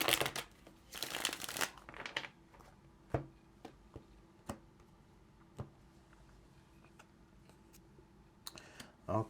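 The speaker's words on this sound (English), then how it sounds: "let's get this last shuffle." Tarot cards shuffle in a few quick riffling bursts near the start, followed by scattered soft clicks and taps of cards close by in a quiet room.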